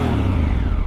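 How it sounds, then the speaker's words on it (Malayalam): A Honda Africa Twin motorcycle engine revs briefly up close, a loud, dense rumble with a rising rasp across the short burst. "ഇതാണ് നമ്മുടെ എൻജിൻ്റെ സൗണ്ട്."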